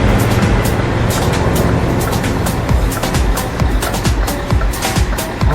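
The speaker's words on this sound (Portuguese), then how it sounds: "Olha o tanto de carro que vem agora aqui." Cars pass by in a truck driving video game featuring a Scania S 730 hauling timber: a continuous loud traffic rumble with repeated whooshes as vehicles rush past close by.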